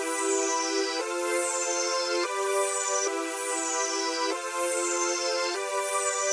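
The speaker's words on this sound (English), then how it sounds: "So the song starts off with these main synths and they sound like this." Bright layered saw-wave synth chords from a song, playing alone at steady volume, changing chord roughly every second with a sustained, buzzy tone and no drums or voice.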